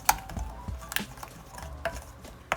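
A spoon stirs tartar sauce of mayonnaise, sweet pickle relish, Dijon mustard and sugar in a bowl. Soft wet squishing runs under several sharp clinks of utensil against the bowl, close up and without talk.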